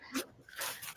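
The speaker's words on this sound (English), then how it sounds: "Excuse my dog barking." A dog indoors lets out two short, yappy barks or yips at moderate volume during a live sale broadcast.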